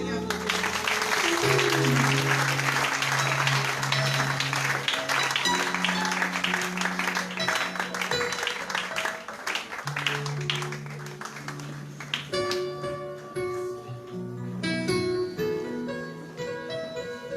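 A church congregation applauds in long, dense, continuous clapping, close and loud, with a voice and music playing over it.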